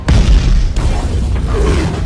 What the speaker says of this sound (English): the explosion was good fun